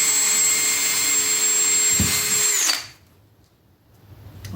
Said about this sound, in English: run screws in to keep it from spinning